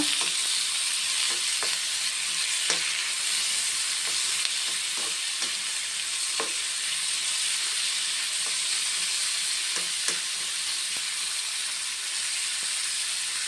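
Tomatoes frying in a pan for a red chutney, a steady broad sizzle with occasional soft scrapes and clicks of stirring, close and fairly loud with no talking.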